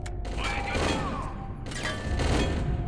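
Three-round bursts of gunfire in the PC video game Chaser, sharp broadband cracks in two clustered volleys with mechanical clatter, loud and close.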